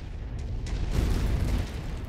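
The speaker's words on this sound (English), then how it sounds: "Incoming missile." A missile explosion in the MechWarrior 5 video game: a heavy, rumbling low boom that swells and holds for about two seconds, loud and close, with crackling debris noise layered through the blast.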